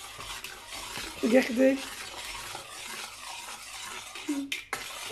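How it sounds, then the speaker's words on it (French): Homemade ice cream mixture of milk and vanilla being stirred gently in a bowl, soft scraping and swishing with a couple of brief louder clinks, while a person speaks briefly. "Et Zoé va mélanger tout doucement."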